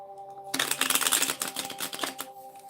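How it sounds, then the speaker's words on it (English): Tarot cards with bent, bendy stock being shuffled by hand, a dense burst of riffling and flapping that runs for about two seconds, close and fairly loud, with a steady hum beneath. "Spirit said that I needed to do a proper shuffle"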